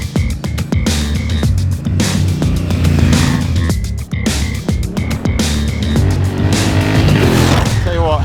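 A Honda Africa Twin motorcycle rides off-road with a loud, close engine that surges and drops as the throttle changes, with rough knocks and rattles from the terrain and a rider talking over it.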